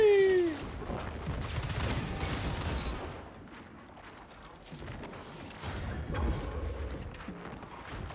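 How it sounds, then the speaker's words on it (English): Grenade blasts and rattling bursts of gunfire in the Destiny 2 video game, a rumbling flurry of shots that fades and then picks up again. "Guess it was just before the nade hit."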